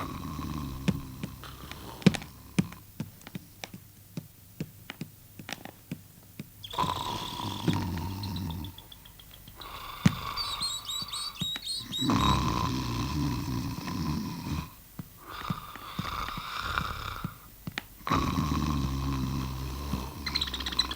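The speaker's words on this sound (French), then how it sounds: "Qu'est-ce que c'est que ce bruit de ronflette?" Snoring from a character in a French children's puppet show: slow, repeated rasping breaths rising and falling for about twenty seconds, with brief pauses, fairly quiet and with no talk over it.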